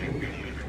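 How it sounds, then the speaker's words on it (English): Ducks at the Metro Richmond Zoo give a short burst of nasal quacking, fairly faint and brief, with no speech over it. "Ducks."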